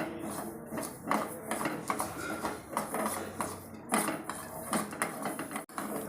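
Mustard seeds roasting in a kadhai for a lemon pickle make repeated close metallic scraping and clinking, with a spoon rattling against the pan in irregular bursts over several seconds.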